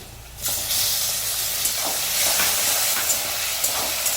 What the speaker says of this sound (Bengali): চিংড়ি মাছটাকে একটু ভালো করে আমরা ভেজে নিই